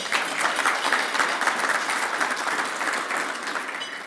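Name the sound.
audience round of applause for the mayor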